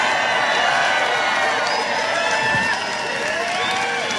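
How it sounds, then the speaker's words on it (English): A studio audience at a live comedy talk show cheers loudly and steadily, with whoops and scattered applause, a dense wall of crowd noise that thins slightly toward the end. "You notice people aren't laughing, they're cheering."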